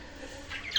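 Pet budgerigars give a couple of short, faint chirps that rise near the end over a quiet background. The calls are brief and close, with no talking.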